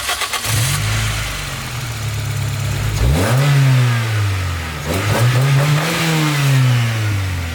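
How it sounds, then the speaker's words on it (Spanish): A car engine with its stock air intake revs repeatedly, rising in pitch and settling back to idle between loud, close throttle bursts. "vamos a hacer la comparación entre el sonido con la admisión original"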